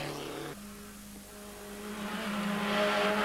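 A Renault R5 GT Turbo rally car runs a stage at the 1993 Rallye de Madiran, its engine note shifting pitch as it drives past at a distance and building toward the end.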